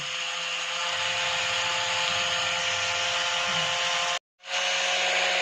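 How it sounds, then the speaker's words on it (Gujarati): A hand blender churns cream with buttermilk and water into butter, giving a steady, close, high-pitched motor whir that cuts out briefly near the end and then resumes. "આ મશીનના બ્લેન્ડરથી આપણે માખણ આ હિસાબે વલોરિયા કરવાનું"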